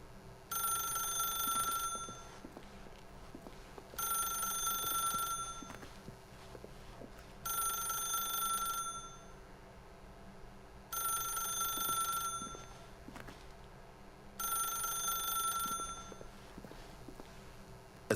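A telephone ringing in the video game The Stanley Parable: five evenly spaced bursts of a bright electronic ring, each about a second and a half long, separated by pauses, sounding near and clear over a quiet background.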